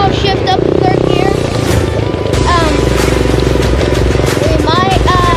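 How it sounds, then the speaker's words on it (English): An SSR 125 dirt bike revving loudly while shifting up to third gear, its engine drone steady and close with rising and falling pitch sweeps, with a voice talking over it. "right now I'll shift up to third gear."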